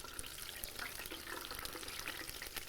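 Hot oil in a deep fryer hisses and crackles steadily throughout, a dense, even sizzle heard close and fairly quiet, with no voices over it.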